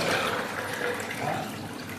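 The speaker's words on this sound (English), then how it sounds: "So here is my soda ash, and I'm dissolving it with 3 liters of water." Three liters of water poured over soda ash to dissolve it while making liquid soap, a steady close splashing, gushing stream with no pauses.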